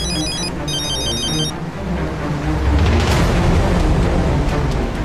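A telephone rings in a short, high, trilling electronic burst of about a second and a half over a dense background bed, which then swells into a low rumble.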